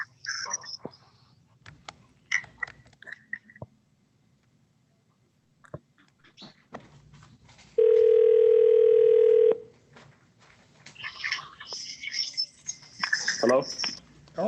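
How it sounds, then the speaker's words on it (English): A telephone is dialed on a conference call: a steady tone sounds for about two seconds amid faint clicks and room noise, followed by muffled voices talking. "All right, I'm dialing now."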